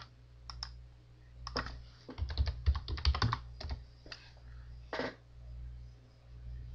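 Keys clatter on a computer keyboard while someone signs in to a search website: scattered single taps at first, then a quick burst of typing in the middle, then a few final presses, all faint and close.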